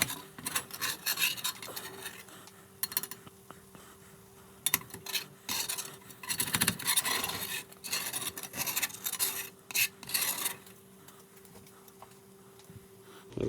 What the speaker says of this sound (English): Take the metal spatula here and scrape off as much of that right now that it's hot